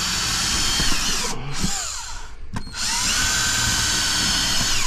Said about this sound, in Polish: Trzeba nawiercić, żeby nie pękały deski.